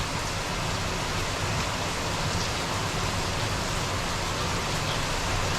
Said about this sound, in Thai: ฝนตก ฝนตกนะ